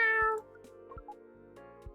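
A little cat gives a single clear meow at the start, close and fairly loud, then fades into quiet soft background tones.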